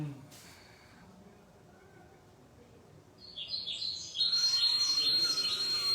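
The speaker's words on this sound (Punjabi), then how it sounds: "ਚਿੜੀਆ ਦੀ ਵੌਇਸ ਚੈੱਕ ਕਰਕੇ ਇਹ ਚੱਲੇਗਾ" High, busy recorded sparrow chirping from a bird-scaring device switches on partway through and grows loud and continuous, preceded by quieter background murmur.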